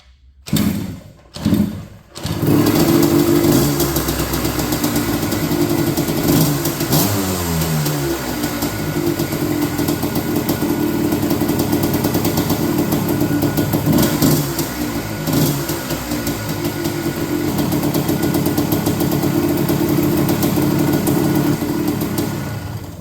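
A vintage ATV engine, one of a set including a TRX250R, Tri-Z, Scrambler and ATC250R, is choked and cranked in a couple of short attempts, then catches and runs steadily close by with revs rising and falling before settling toward idle.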